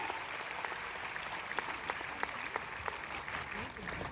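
Steady applause from an audience in a university auditorium, dense continuous clapping with sharper individual claps standing out, sustained for the whole stretch.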